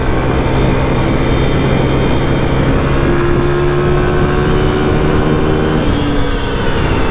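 A new dirt bike engine roars loud and close while climbing a big hill, a dense sustained drone with rising harmonic tones as the revs climb and hold, then ease slightly near the end.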